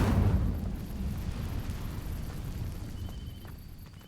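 An Incendio fire spell ignites dry vines in Hogwarts Legacy: a sudden loud whooshing burst of flame, then a steady roaring, rumbling burn that continues alone without fading.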